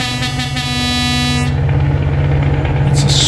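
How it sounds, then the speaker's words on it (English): A Scania S 730 truck air horn in a truck driving video game gives one loud, steady, sustained blast for about a second and a half. Engine rumble continues underneath. "It's a solid horn."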